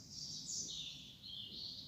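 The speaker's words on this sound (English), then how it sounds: "These are baby pigeons." Baby pigeons give soft, high, thin squeaking calls in a few drawn-out overlapping phrases, faint and close, with no talking.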